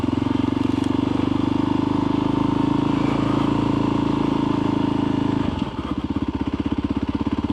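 A Voge 300 motorcycle is paddled slowly through deep mud, its engine a loud, steady close-up drone that dips briefly and comes back as a pulsing, lower-revving chug.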